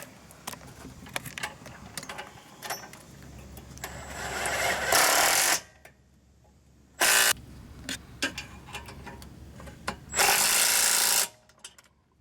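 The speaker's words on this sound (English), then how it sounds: "My impact here does 60, so I'm going to bring them up to 60" An impact wrench tightens the wheel bolts on a Hyundai Santa Fe, firing two loud, sustained rattling bursts of about a second each with a shorter burst between them, all close up, with quieter clinks and handling noise in the gaps.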